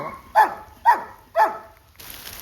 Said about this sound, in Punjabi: ਆ ਦੇਖੋ ਕੁੱਤਰੀ ਸਾਡੇ ਇੱਥੇ ਬੈਠੇ ਨੇ